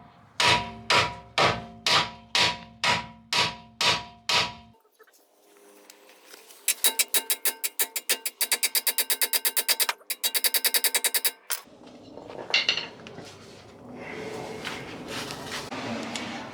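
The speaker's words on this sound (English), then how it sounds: "Now I'm gonna hammer the knuckle until this piece pops out" Repeated heavy metal hammer blows on a BMW E36 M3 steering knuckle, a steady run of about ten strikes, then a faster burst of lighter rapid clanks, followed by scraping and clatter.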